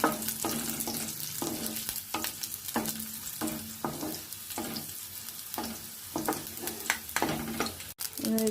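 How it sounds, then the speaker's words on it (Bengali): Garlic cloves and green chillies fry in a pan, a soft continuous sizzle broken by repeated scraping strokes of a spatula at a roughly regular rhythm, one after another, with a brief clatter near the end. "কাঁচা লঙ্কাটাও ভেজে নেব।"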